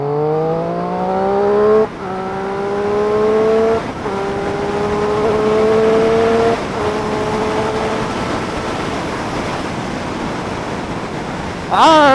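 A sport motorcycle with a quick shifter pulls hard through rising revs, the engine note climbing steadily, briefly dipping at each upshift, then climbing again. Wind rush stays loud and close throughout.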